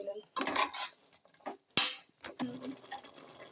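A spoon scrapes and clatters against a pan while vegetables and masala are mixed for vegetable palav, in scattered clinks and knocks between quiet gaps.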